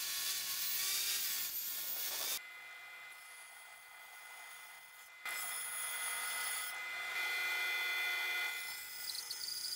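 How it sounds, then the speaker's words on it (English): A hand saw cuts through a piece of scrap wood to shape a ping pong paddle handle, steady rasping strokes close up with a brief pause midway, no voices. "So I'm going to cut that out of this piece of scrap wood I had lying around."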